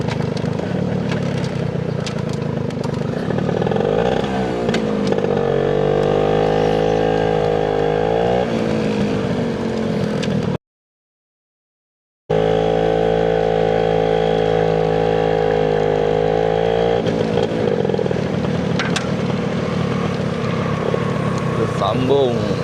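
Yamaha Y110ss two-stroke motorcycle ridden on the road, its engine droning steadily then rising and falling through revs, with wind noise throughout and a brief dropout midway.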